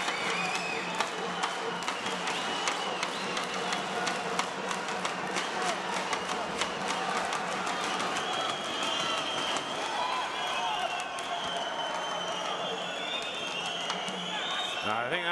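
A crowd of a few thousand Kazakh fans roars and applauds at an Olympic men's welterweight boxing quarter-final, a continuous dense wash of cheering and clapping with sharp claps poking through, while a commentator talks over it.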